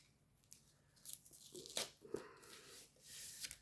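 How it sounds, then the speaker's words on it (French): A package is torn open slowly and carefully in short, soft ripping strokes with brief pauses, quiet and close. "Je vais essayer de pas trop déchirer pour lire ce qui est écrit."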